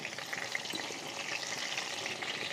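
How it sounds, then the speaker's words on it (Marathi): Cumin seeds frying in a little hot oil in a kadai, a dense, even crackling sizzle held close throughout with no voices. "थोडंसं तेल तापले, जिरं टाकून घेते."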